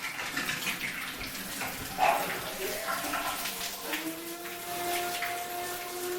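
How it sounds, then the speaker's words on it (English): Water spraying from a shower head clogged with lime deposits, a steady, rushing hiss of flow with a faint whistling tone, heard continuously at moderate distance in a bathroom. "that noise lets you know that the shower head is clogged up"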